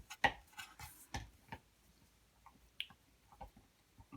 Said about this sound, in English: if you can hear any noise in the background, it's my dog. He's chewing his chew bone